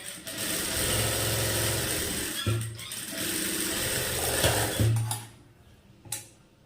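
A tailoring sewing machine stitches pieces of fabric together in close, steady mechanical bursts that whir and stop, then start again, with short pauses and a few soft handling clicks between runs.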